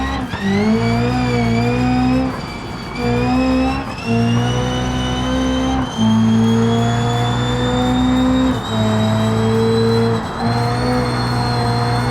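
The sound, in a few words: car burning its tires in a video game on the Nordschleife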